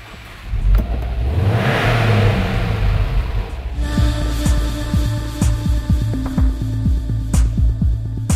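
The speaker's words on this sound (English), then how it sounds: "And just listen to how it sounds." A 2010 Subaru Impreza WRX revs hard and close, with rising and falling engine sweeps in the opening seconds, then settles into a steady, throbbing idle punctuated by sharp blips of the throttle.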